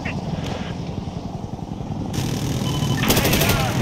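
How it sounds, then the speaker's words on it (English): A helicopter in the video game Insurgency Sandstorm drones loudly and continuously, its rotor noise swelling toward the end, with brief sharp in-game sounds layered over it. "The helicopter's giving a lot of cover for footstep noise because you can hear how loud it is."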